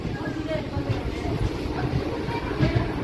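A MEMU passenger train, number 5720 bound for Macherla, runs at Sattenapalli station on the Guntur–Macherla line, giving a steady, loud, continuous rumble with faint voices in the background.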